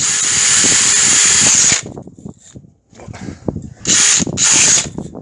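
Drill fitted with a brush scrubbing a brake hub on a Skoda Octavia 2FL, loud whirring bursts that stop and start in several short runs with gritty scraping between them.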